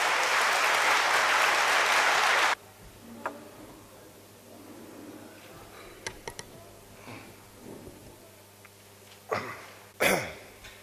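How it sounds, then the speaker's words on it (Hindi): An audience in Mandla, Madhya Pradesh, gives loud, dense applause welcoming Colonel RSN Singh that stops abruptly after a couple of seconds, leaving a quiet hall with scattered coughs, throat clearing and small clicks. "जोरदार तालियों से स्वागत करें कर्नल साहब का"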